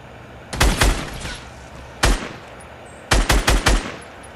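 Fortnite gunfire from enemy snipers on a hill: sharp, loud cracks arriving in quick clusters, a pair, a single shot, then a fast run of four, with short echoing tails.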